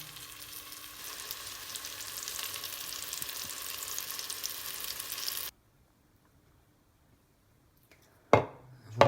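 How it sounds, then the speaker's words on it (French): Chicken pieces sizzle skin-side down in butter in a pan for chasseur, a steady loud fry lasting about five seconds, then near silence before brief utensil clatter at the end. "On va le faire revenir avec du beurre. On démarre côté peau."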